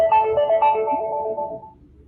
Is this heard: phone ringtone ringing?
yes